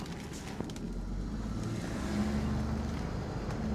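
A 1967 Mustang fitted with a Holley Sniper fuel injection rumbles steadily while driving, a low continuous engine drone mixed with road and wind noise, heard from inside the car.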